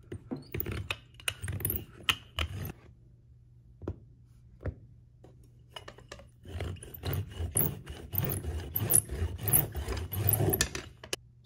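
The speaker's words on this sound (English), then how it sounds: "when I roll my rolling pin on top of the dowels, I'm not hitting the clay anymore" A rolling pin is pushed back and forth over a clay slab resting between thickness dowels on a table, giving soft, irregular rubbing and rumbling strokes in bursts with short pauses, close and fairly quiet.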